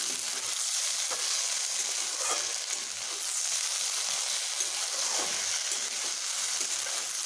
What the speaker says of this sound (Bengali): এবার আমি আলু ও ঢ্যাঁড়সগুলোকে এইভাবে ভালোভাবে মিশিয়ে নিচ্ছি